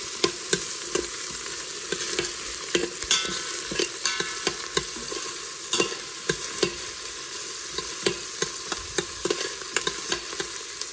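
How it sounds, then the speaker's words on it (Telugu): Onions fry in hot oil with ginger and garlic pieces, a steady close sizzle broken by frequent sharp crackles and pops as the pan is stirred. "నేను గార్లిక్, జింజర్ పీసెస్ వేసాను. ఇది హాఫ్ ఫ్రై అయిపోయాక ఆనియన్స్ వేస్తున్నాను"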